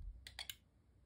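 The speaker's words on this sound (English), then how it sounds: "there you can hear the relay clicking" The relay inside a ToolkitRC P200 ultra-mini desktop power supply clicks three times in quick succession, faint and close, followed by quiet.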